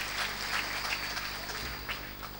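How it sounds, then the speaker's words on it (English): Audience applause at a NASSCOM eSummit welcome address, a steady wash of many hands clapping throughout, fairly distant in a large hall. "A huge round of applause for all of you out here."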